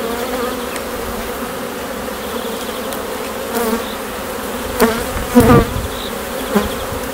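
Steady, dense buzzing of many Buckfast honeybees close by at an open hive, continuous throughout with a few louder swells and bumps, no talking.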